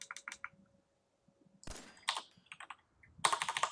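Computer keyboard keys pressed in short bursts of clicky taps, close and fairly quiet, with brief pauses and a denser flurry of typing at the end; no talking.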